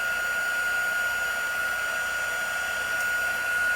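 An embossing heat gun warming up for crafting, giving a steady loud blowing whoosh with a constant whine, unbroken for the full stretch with no talking.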